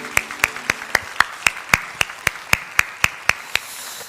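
A church congregation at a Sunday worship service claps in unison, about fifteen sharp, evenly spaced beats in a steady rhythm that fill the room, with no talking.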